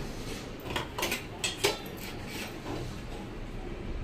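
Chopped onion and green chili tipped into a cooking pan, a few light clinks and scrapes of utensil against metal over a steady background hiss, no talking.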